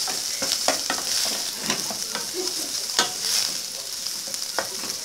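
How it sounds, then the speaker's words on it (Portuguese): Meat frying in a pan for feijão tropeiro, a steady broadband sizzle with repeated sharp stirring scrapes and clicks spread through the clip, close and fairly loud, with no talking. "Primeiro eu frito a carne para depois fritar a calabresa, tá?"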